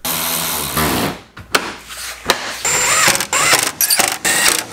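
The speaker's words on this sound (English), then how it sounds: "Just gonna bolt the bumper all back up." A power tool drives bolts as a truck bumper is refastened on a Chevrolet Colorado ZR2, loud mechanical whirring and ratcheting bursts broken by short pauses, up close.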